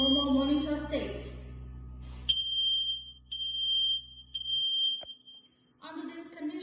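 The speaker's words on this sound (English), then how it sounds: "The regular one alarms now, while dual-wavelength X200 stays still as in normal monitor states." A regular smoke alarm beeps in a loud, shrill high tone in repeated pulses while a dual-wavelength alarm beside it stays silent. The beeping cuts into talk at the start and end of the clip.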